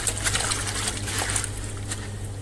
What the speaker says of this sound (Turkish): Bol, bol suda, bol soğuk. Üç kere böyle yıkamak lazım bu üç kere.